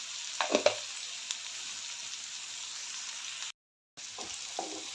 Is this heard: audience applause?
no